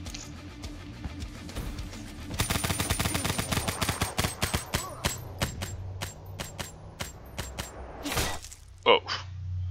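Gunfire in Call of Duty Black Ops 3, a team deathmatch: sharp shots, sparse at first, then a dense burst of rapid fire followed by scattered single shots and a final loud report.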